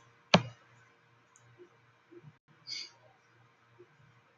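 A single sharp computer mouse click sounds up close on a quiet desk while answering a question on a website, followed by faint small ticks and rustles.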